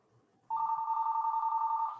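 A mobile phone rings out loudly during a board meeting, starting abruptly after a near-silent moment and then holding a steady warbling electronic tone.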